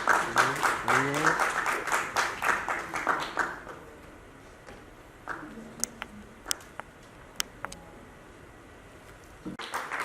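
Audience at a charitable trust's award ceremony in Jaipur claps rhythmically and loudly for about four seconds alongside an announcer's voice, then the clapping fades to scattered, sparse claps and taps.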